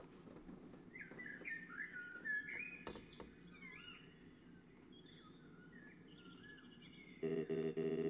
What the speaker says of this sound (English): Oh, birds are singing.